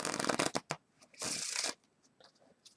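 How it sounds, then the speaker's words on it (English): A deck of playing cards being shuffled close up during a card trick, with a quick riffle of crisp flutters, a few sharp snaps, then a longer steady whirring riffle before quieter handling. "Get those cards flowing here."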